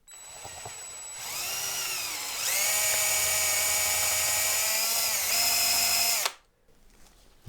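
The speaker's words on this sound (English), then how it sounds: "I've actually got the drill running backwards" A power drill running in reverse whines steadily at high pitch for several seconds on a Stratocaster guitar build, close up, its tone shifting slightly before it cuts off abruptly.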